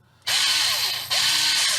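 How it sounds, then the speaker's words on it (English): A power drill drives screws into a 1.9 beadlock wheel rim in two close, loud whirring bursts, the motor pitch dipping slightly under load, with no speech. "I recommend if you're going to use the drill"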